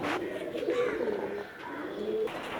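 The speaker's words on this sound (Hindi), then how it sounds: "ये मेरा उड़ने वाले कबूतरों का लॉफ्ट है।" Flying pigeons cooing in their loft: several soft, throaty coos repeat through the whole stretch, close and fairly steady, with no talk over them.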